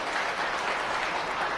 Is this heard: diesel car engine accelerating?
no